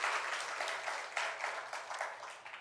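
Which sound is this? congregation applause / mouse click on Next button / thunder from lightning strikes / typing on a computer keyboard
congregation applause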